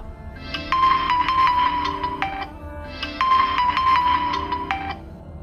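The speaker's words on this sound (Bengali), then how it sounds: "সুমনের ফোন" A phone ringtone plays a repeating electronic melody in two identical bursts with a brief pause between, clear and close, with no voices.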